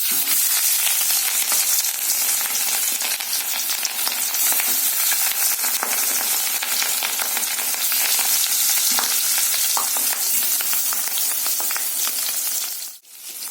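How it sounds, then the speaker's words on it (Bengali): Loud, continuous sizzling of fish frying in hot oil, a dense crackling hiss that barely changes, with a brief dip near the end. "দেখুন তেলটা গরম হয়ে গেছে, ধোয়া উঠছে। এবার আমি মাছগুলো ছেড়ে দেবো।"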